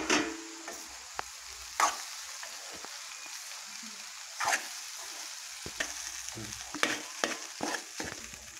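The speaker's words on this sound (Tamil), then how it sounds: "இப்போ நல்லா கிளறி விடுவோம்" Horse gram and onions frying in a pan for horse gram upma, with a steady sizzle under intermittent stirring strokes and several sharp scrapes of the spoon against the pan.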